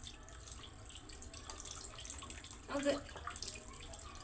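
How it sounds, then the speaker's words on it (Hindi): A tap runs steadily while dishes are washed at a sink, with a soft continuous water hiss, a few light clinks and splashes, and someone speaking briefly. "मैं ये पहली बार कोशिश कर रही हूँ कि बर्तन भी खुद ही धो लिया करूँ।"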